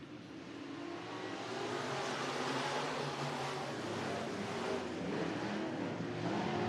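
Race cars roar around the track at Merced Speedway in California, a dense, steady engine drone heard from a distance that swells slightly as the cars pass.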